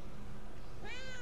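A cat in the Murdered: Soul Suspect cat simulator game gives one short, rising meow near the end, over a steady hiss of background noise.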